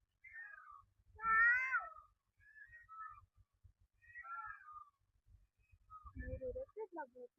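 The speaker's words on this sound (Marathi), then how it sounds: "अशा प्रकारे असे मोर ओरडते," A peacock calls in a series of separate, wailing, meow-like cries spaced across several seconds, moderately loud with quiet gaps between them and a rougher burst near the end.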